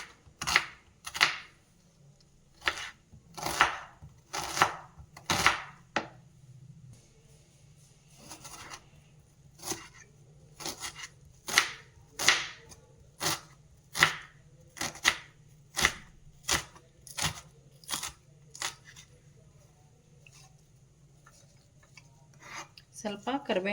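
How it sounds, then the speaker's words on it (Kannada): An onion being finely chopped with a knife on a cutting board in a kitchen, making sharp, evenly spaced knocks, close and distinct, with a faint background hum. "ಸಣ್ಣದಾಗಿ ಈರುಳ್ಳಿಯನ್ನು ಕಟ್ ಮಾಡ್ಕೊಳ್ತಾ ಇದ್ದೀನಿ"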